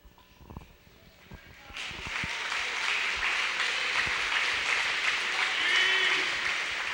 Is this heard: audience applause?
yes